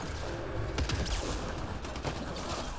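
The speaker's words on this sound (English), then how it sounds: "flak cannon is alright for damaging enemies" A flak cannon fires in the video game Mass Effect Andromeda, producing a dense, continuous barrage of sharp bursts and explosions with no talk over it.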